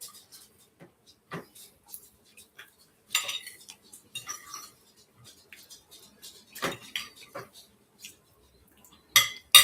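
Cutlery and dishes clink in scattered, sharp bursts during a dinner of spotted prawns and dill potatoes, close and fairly faint, with quiet pauses between the sounds.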